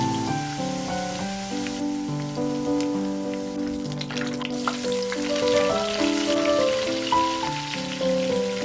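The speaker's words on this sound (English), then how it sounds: "Heat a pan on medium heat and add the appropriate amount of oil. Sauté garlic until golden brown." Garlic sautéing in oil in a pan over medium heat gives a steady sizzle, partly masked by louder background music with stepping melodic notes.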